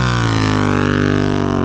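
Motorcycle engine on a street ride, throttle held open with a steady harmonic drone rising gradually in pitch as it pulls and accelerates, loud and close, with wind rumble and no talking.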